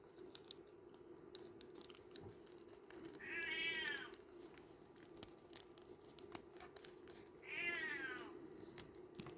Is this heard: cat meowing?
yes